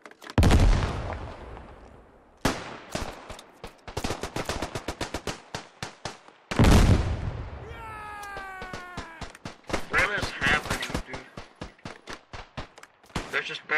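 A frag grenade blasts in the wartime shooter Beyond the Wire, a loud deep boom among rapid bursts of gunfire, followed later by another heavy blast and ongoing close shots and clatter.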